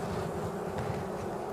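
Honeybees buzzing at an open hive during a late-summer feeding check, a steady close drone of many insects with a faint breeze in the background.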